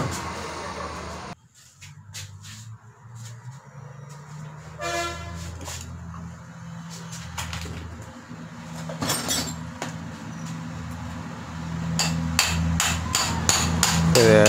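Sharp metallic hammer blows knock loose the cut shaft of a monoblock pump motor, with scattered single strikes and then a quick rapid series of taps, close over a low steady hum that builds toward the end.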